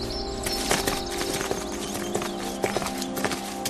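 Horse hooves clip-clop steadily as the horse is ridden, with a rhythmic series of clear hoof strikes over dense, busy background noise.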